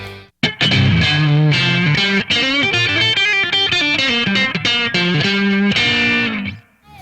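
Electric guitar playing a lively riff through an amp with a mildly distorted crunch tone, loud and close, notes ringing out before fading at the end.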